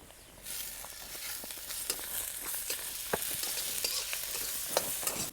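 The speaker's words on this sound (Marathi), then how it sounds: "मसाले खमंग परतले" Spices with turmeric, red chilli powder, onion-garlic masala and coriander sizzle and fry in a pan as they are stirred, making a steady soft crackle with scattered clicks from the spoon. The sound is quiet and close, with no talking.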